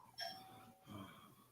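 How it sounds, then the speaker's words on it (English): A home doorbell rings faintly once, a short bright chime with a second softer tone following, heard from a distance in a quiet room. "That's my doorbell."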